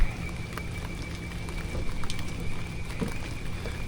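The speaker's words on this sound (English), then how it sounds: "don't know if y'all can see the rain" Steady rain falls on a crowded campsite during a holiday-weekend camping trip, a constant close patter and hiss with no talking.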